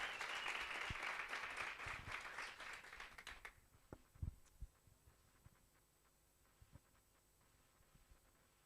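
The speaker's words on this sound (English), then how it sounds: "One more time, a round of applause." An audience at a business workshop in Tlhabane applauds with a dense burst of clapping that fades after a few seconds. Scattered, faint individual claps follow against a quiet room hum.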